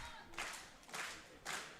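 A crowd at a women's 76 kg world classic powerlifting championship clapping in unison behind a deadlift attempt, three rhythmic bursts of applause in a large hall.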